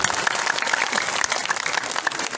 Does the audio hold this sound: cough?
no